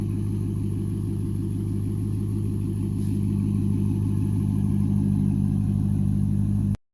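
A Chevrolet Corvette C5, back running after a harmonic balancer replacement, idles steadily and loudly up close with a continuous low engine drone and no talk, cutting off abruptly at the end.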